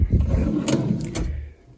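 Drawers of a double dresser with power outlet and LED lights sliding open and shut, giving low rumbling slides and a couple of sharp knocks, close by, with no talking.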